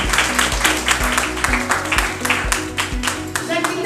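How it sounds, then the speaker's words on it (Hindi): Loud applause from a seminar audience at an award event, heard over a thumping rhythmic music beat with regular low pulses. "जोरदार तालियां एक बार होनी चाहिए सबके लिए।"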